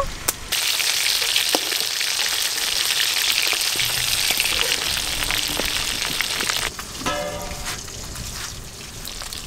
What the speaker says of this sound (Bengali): উল্টে পাল্টে লাল লাল করে ভেজে নেব।